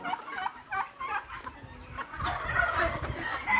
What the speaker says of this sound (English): Those are giant chickens. They're bigger than the average chicken.